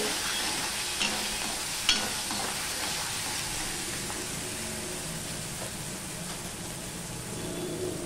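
Ginger and green chillies spattering in hot oil in a pan, a soft steady hiss with occasional faint pops and crackles, fairly quiet and continuous without any talking.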